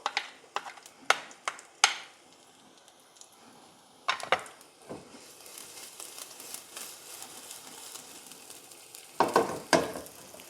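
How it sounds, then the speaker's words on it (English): Onion and garlic sauté in oil in a pan over medium-high heat with a soft sizzle, broken by sharp clicks and scraping knocks from stirring, for chicken cooked in coconut milk. "we're going to add in our oil to saute the onion and the garlic"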